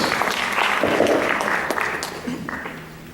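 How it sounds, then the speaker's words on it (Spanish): Listeners at a panel session applaud to welcome a speaker, a moderate wash of clapping that fades gradually across a few seconds. "Le recibimos con un fuerte voto de aplausos"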